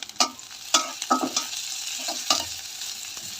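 Onions and green chilies frying in a pan, a faint sizzle punctuated by several distinct scraping and tapping stirs of a spatula against the pan.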